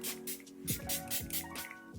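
A face mist spray bottle gives several quick, soft hissing spritzes in a rapid rhythm, close by but faint.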